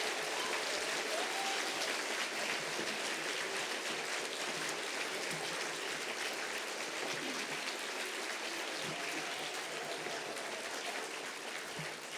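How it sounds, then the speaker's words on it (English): A recognition ceremony audience at a graduate school gives faculty a warm, sustained round of applause, a dense continuous clapping roar that fades slightly toward the end with no voices over it. "I would like to ask everyone to please give a warm round of applause for our faculty"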